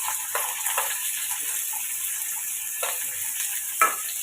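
Small onions, green chilies and a tomato sauté in a pan, with a constant crackling sizzle and a few distinct scraping stirs of a spatula, close up and without talk.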